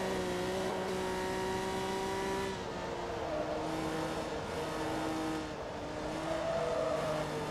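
A race car with big exhaust pipes in Forza Motorsport 2 drones at high revs, its steady engine note shifting through gears and pitch changes, loud and continuous with no talking.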